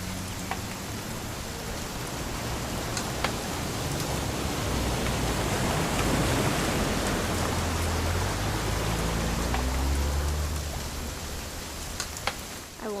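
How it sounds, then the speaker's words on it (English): Rain in the video game What Remains of Edith Finch falls as a constant, even hiss, with soft low rumbles and a few faint clicks scattered through it. "It's gonna rain the whole weekend, isn't it?"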